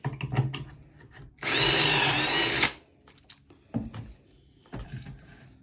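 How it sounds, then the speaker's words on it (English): A power drill bores into wood in one loud, sustained burst of about a second, surrounded by scattered knocks and handling clatter up close. "drill the second hole"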